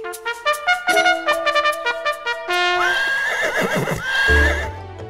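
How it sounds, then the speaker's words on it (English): A horse whinnies loudly several times in a row during a race, each call a bright wavering neigh, followed by a run of galloping hoofbeats with a deep thump near the end. "The horse ran a little,"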